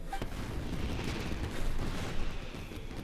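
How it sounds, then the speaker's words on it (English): Fireworks bursting in Genshin Impact, with Yoimiya's batch going off as a steady run of booming, crackling blasts, loud and sustained with no talk over them. "this is turning into a bit of a fireworks display"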